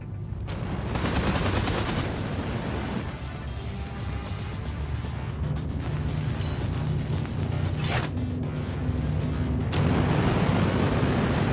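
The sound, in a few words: spaceship turrets firing in Everspace 2 video game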